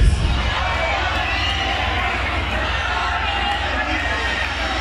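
A crowd at a rock festival in Peru cheers and shouts from the first moment, a dense roar of voices that stays steady and fairly loud, mixed with chatter.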